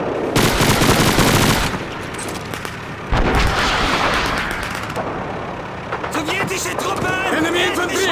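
Sustained machine-gun and rifle fire in a World War II shooter, Call of Duty 2, loud and dense in rapid bursts with a brief pause near the middle, shouted battle commands mixed in.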